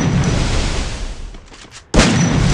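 An M1014 shotgun fires in the Free Fire game as one loud, broadband blast that cuts in sharply near the end, following a dense, noisy stretch of game sound that thins out just before.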